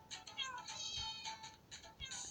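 A cat meows repeatedly in the video game Cats Simulator, a series of high, fairly faint mews in quick succession with no voices over them.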